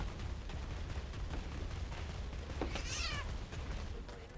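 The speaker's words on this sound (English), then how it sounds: "Hear my cat there." A pet cat meows close by over steady game noise and gunfire from a Planetside 2 session, one short rising call standing out partway through.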